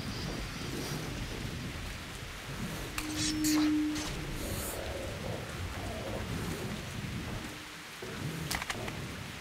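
Steady rain pours in the Metro Redux video game while thunder rumbles low underneath, a continuous hiss of drops with a few brief sharper ticks and tones from the game mixed in.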